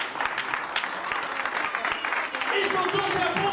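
A church congregation bursts into dense, steady applause during a sermon, loud and sustained, with a voice carrying over the clapping.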